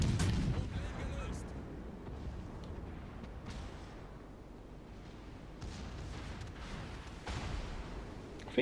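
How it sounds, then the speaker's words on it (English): Battleship main guns in World of Warships Legends let loose a heavy booming volley, followed by a sustained low rumble and scattered distant blasts throughout the naval battle. "I think one more volley should finish off the Cunningham."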